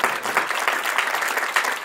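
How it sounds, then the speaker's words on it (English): An audience at a Chicago State University candidates forum claps in a dense, steady round of applause that carries evenly from start to finish, with no voice over it. "let's give them another round of applause"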